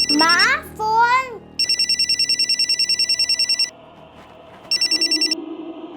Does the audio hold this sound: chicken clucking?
no